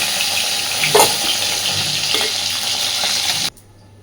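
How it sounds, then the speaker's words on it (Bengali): Fish fries in hot oil in a home kitchen with a loud, continuous sizzle, a couple of sharp clinks from a utensil, and then the sound cuts off abruptly near the end. "এই একইভাবে বাকি মাছগুলোকেও আমি সব ভেজে নেব।"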